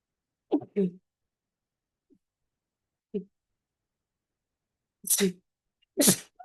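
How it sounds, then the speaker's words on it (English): A chef gives a sharp, loud sneeze near the end, preceded by soft voice sounds and a short intake of breath, followed by a second burst right after. "Gonna sneeze."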